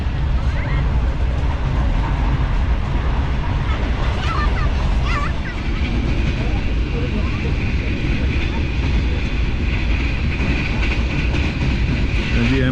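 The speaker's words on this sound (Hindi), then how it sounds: "अहमदाबाद रेलवे स्टेशन से पास थ्रू हो रही है ग्रीन लाइन 5 अप" The Green Line 5 Up express train runs through Ahmadabad railway station, a continuous loud rumble with steady rattling of wheels and carriages for the whole stretch, with voices mixed faintly underneath.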